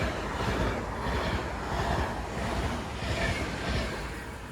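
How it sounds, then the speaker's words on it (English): Avanti West Coast Pendolino train passing through Oxenholme station in the Lake District, a steady loud broadband rush and rumble sustained throughout with slight surges, with no voices. "Yep, this time it is a Pendolino."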